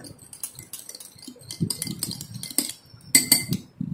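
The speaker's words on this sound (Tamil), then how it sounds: "இதெல்லாம் சேர்த்து நம்ம நல்லா மிக்ஸ் பண்ணி வச்சுக்கலாம்." A spoon clinks and scrapes in a bowl, mixing milk, honey and a drop of vanilla essence for Graham cracker biscuits; light, irregular metallic taps and stirring noises sound close by.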